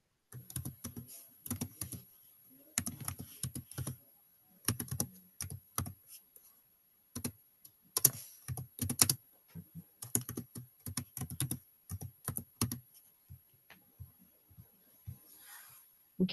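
Someone types on a computer keyboard in irregular bursts of close, crisp key clicks separated by short pauses, with no talking.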